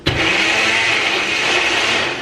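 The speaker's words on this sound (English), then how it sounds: "We have a Ninja, a little Ninja that I use for our blender." A small Ninja blender switches on abruptly and whirs loudly and steadily, blending a fruit smoothie with orange juice and oat milk, its motor drone holding constant throughout.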